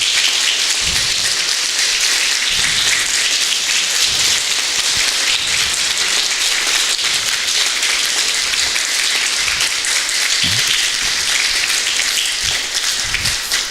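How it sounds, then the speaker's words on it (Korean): A church congregation applauds steadily to welcome a visiting reverend and his wife, a dense, even wash of clapping that holds at full loudness without a break and without any voices. "우리 박수로서 환영해 주시기 바랍니다."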